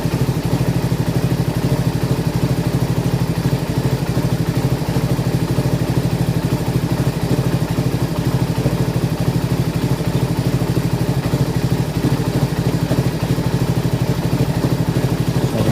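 A small motorcycle engine on a Rusi Flash150, WMoto F15 or Malaguti Spectre 125 fitted with a UMA M5 ECU runs steadily and loudly throughout, with a continuous buzzing, clattery drone and no talk.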